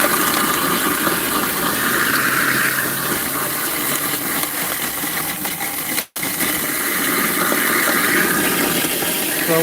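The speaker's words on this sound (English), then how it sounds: "So we grind it up, come up with our slurry" A grinder churns food scraps into a wet slurry with a loud, steady whirring drone that dips briefly midway and then resumes.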